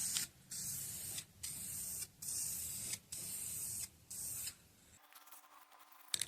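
Clear coat spray paint hisses from an aerosol can onto a taped-off headlight in steady bursts of about a second, each broken by a short pause, close and fairly loud, with no talking.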